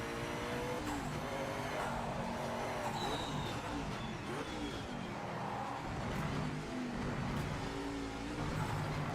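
A race car in Project Motor Racing works through a tight chicane, its engine droning and shifting pitch as it brakes and accelerates, loud and steady throughout with a faint screech of tires.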